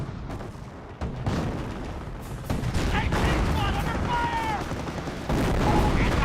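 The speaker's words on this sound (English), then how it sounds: "Incendiary mortar there," Incendiary mortar fire during a Company of Heroes battle: dense, continuous crackling gunfire and dull booms close by, with a commentator talking over the combat.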